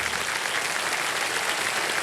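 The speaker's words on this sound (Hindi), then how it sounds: "तालियां बज जाए इनके लिए" A studio audience at the Indian quiz show Kaun Banega Crorepati applauds a contestant, dense, even clapping filling the whole stretch without speech on top.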